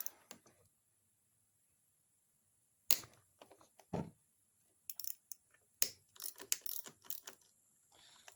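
Short bursts of ratchet clicking come from loosening the master cylinder clamp on a motorcycle handlebar, quiet and close, separated by pauses of near silence.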